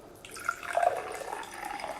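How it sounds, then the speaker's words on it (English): Club soda poured into a glass chilled in the freezer, a steady fizzy splashing pour lasting a couple of seconds, close and moderately loud with no talking. "I'm going to pour my club soda, about 6 ounces"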